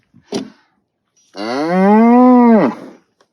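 A cow lets out one long, loud, close moo on a farm, preceded by a brief soft knock or shuffle.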